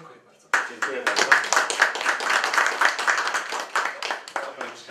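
An audience breaks into sustained applause after an evening lecture in Poland, starting abruptly from near silence and holding as a dense, loud wash of clapping for several seconds.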